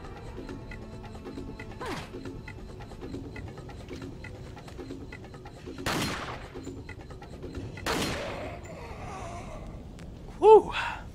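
Gunshots fired at a wall in Resident Evil 4 on Wii, a few sharp separate cracks spaced seconds apart, close and loud over low background hum and ambient game sound.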